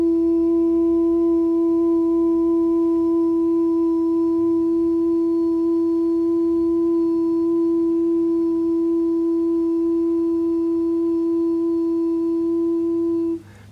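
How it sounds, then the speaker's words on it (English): A person sustains a soft, steady hum on a high pitch, a pure unwavering tone held for about thirteen seconds before cutting off abruptly. "Sustaining a very low volume hum at a kind of a high note, as high as you can produce without straining."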